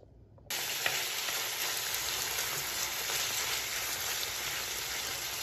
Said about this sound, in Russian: И отправим жариться нашу курицу.